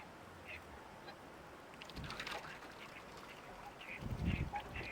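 Ducks being fed by hand at Dawlish, with seagulls nearby, give a few quiet, scattered quacks over low outdoor background noise, with a louder cluster of calls near the end.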